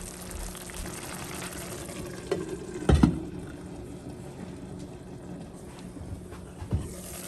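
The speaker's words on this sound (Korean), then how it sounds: "뚜껑을 닫고 한 소끔만 끓여주세요" Mapo tofu sauce seasoned with amino soy sauce simmers in a covered pot, a steady low bubbling and hiss with a couple of brief louder clanks or pops, no voices.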